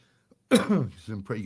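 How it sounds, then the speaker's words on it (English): A single sharp cough bursts out close to the microphone, followed by throat-clearing vocal sounds in a quiet room. "Hang on, I just got a cough."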